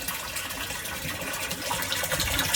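Motor-pumped water gushes into a rooftop storage tank in a continuous, close splashing flow that holds steady and swells slightly toward the end.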